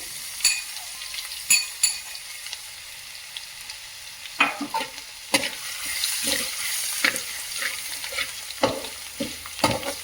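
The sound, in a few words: crushed garlic frying in hot oil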